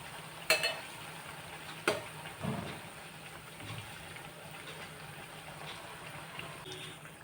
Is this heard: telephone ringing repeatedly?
no